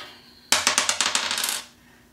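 Coins dropped into a savings box during a savings challenge game, a close, loud rapid run of about eight metallic clinks and rattles over roughly a second, then quiet.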